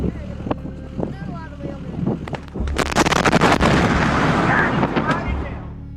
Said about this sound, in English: This blast could be heard from all across the town.